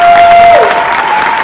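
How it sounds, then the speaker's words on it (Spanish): A studio audience at a telenovela cast presentation applauds loudly, with a dense, steady clatter of clapping and a brief sustained tone running through it. "¡Aplausos para todos ellos!"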